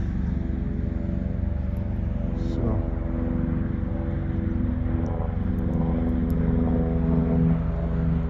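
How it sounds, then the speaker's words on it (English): A propeller airplane passing overhead outdoors, a continuous low droning hum with steady harmonic tones that holds at moderate distance for several seconds, slightly swelling toward the end. "Got a plane up overhead."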